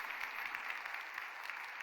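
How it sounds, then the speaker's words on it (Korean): A church congregation at a Sunday worship service applauds its evangelism teams, a steady crowd clapping that sounds somewhat distant and fills the whole moment without speech. "13개 전도팀을 위해서 우리 격려의 박수를 한번 뜨겁게"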